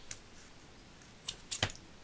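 Scissors snip sticky rubber stamp material for mounting on foam, giving a few short, crisp cuts close by, with quiet pauses between the sharper snips near the end.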